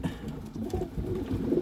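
Racing pigeons coo close by, low throaty murmuring calls overlapping in a brief, steady burst.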